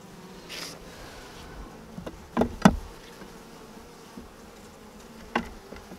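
Soft honey bee buzzing around a new hive during inspection with a hive tool, low and steady, with a few sharp knocks and clicks standing out against the quiet hum.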